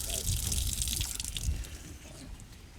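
A running pump stirs water into ripples, a soft trickling, gushing wash heard close, fading somewhat toward the end, with voices talking faintly alongside.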